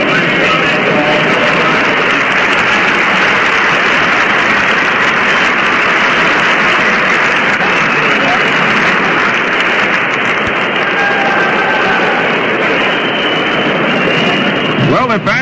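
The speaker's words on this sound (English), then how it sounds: "let's give them a nice round of applause." Studio audience applause on an old-time radio baseball broadcast, a continuous dense wash of clapping with a narrow, band-limited vintage broadcast tone, loud and steady for the whole stretch.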